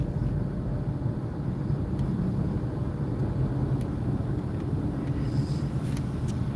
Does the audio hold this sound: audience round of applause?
no